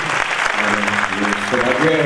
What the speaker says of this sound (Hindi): आपकी जोरदार तालियों के बीच में